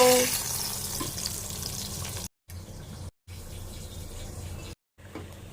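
Brinjal slices frying in hot oil, a loud, continuous sizzle and crackle that cuts out briefly a few times.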